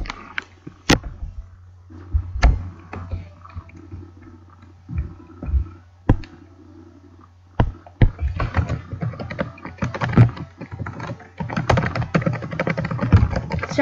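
Computer keyboard typing, at first sparse with scattered keystrokes and pauses, then speeding into dense, rapid continuous clatter over a low steady hum.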